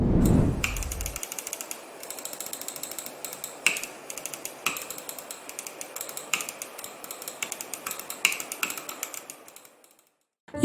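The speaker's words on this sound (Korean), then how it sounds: "그럼 클릭음 들으러 가시죠." A Rapoo V330/V360 gaming mouse with Huano switches gives a steady run of crisp, light clicks, close and isolated, with no talking, before falling quiet at the end.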